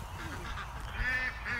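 Adult ducks released from their pen outdoors give a few faint honking quacks over low background rumble, with no talking.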